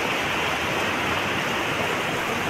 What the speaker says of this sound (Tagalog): At yan na nga, umulan na.